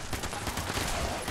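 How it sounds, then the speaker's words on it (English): Rapid bursts of gunfire and explosions from the Fallout 76 video game crackle in a dense, continuous barrage, loud and close, with no talking over them. "That's a lot of explosions."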